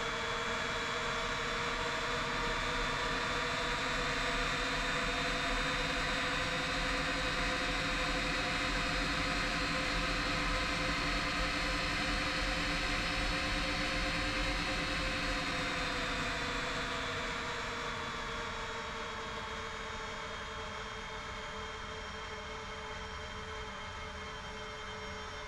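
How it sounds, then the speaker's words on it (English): Jet engines of a Boeing 767 in X-Plane 11 hum and whine steadily as it taxis, a sustained layered drone that slowly shifts pitch and eases slightly in loudness. "You can hear the sound of the engines."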